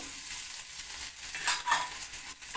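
White cumin seeds and finely sliced ginger sizzle in hot oil for a tempering, a steady crackling hiss with brief stirring swells, close and fairly loud, no voices.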